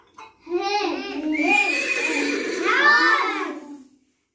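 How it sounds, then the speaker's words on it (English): A horse neighs in a loud, close whinny with a wavering, shaking pitch that rises and falls over a few seconds. It is played as part of an animal sound quiz for first-grade schoolchildren. "Horse."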